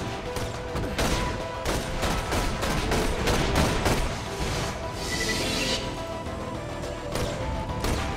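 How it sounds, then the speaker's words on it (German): Enemy in Borderlands: The Pre-Sequel firing odd bullets: dense bursts of rapid gunfire and impacts crackle throughout, with a sharp hissing whoosh midway and more volleys after. "er schießt halt immer irgendwelche komischen Kugeln"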